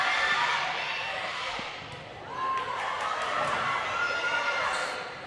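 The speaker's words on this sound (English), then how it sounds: "Crowd really getting into this volley here." A crowd roars and cheers steadily through a high school girls' volleyball rally in a gym, Donna Bravettes against the Lady Wildcats, swelling again midway, with a commentator talking over it.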